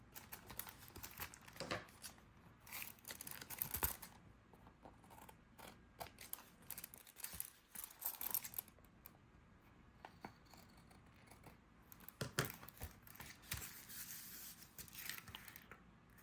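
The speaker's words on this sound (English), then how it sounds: "And I'll cut those excess ends off." Scissors snip off excess paper ends on an envelope pocket for a journal in a few quiet, crisp cuts, mixed with soft paper rustling and handling sounds.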